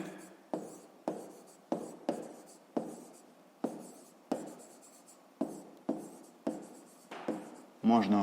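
Digits written by hand for a fifth-grade maths exercise, a dozen short scratchy pen strokes in a steady, fairly close rhythm, each a quick burst that fades, with a louder rustle at the end.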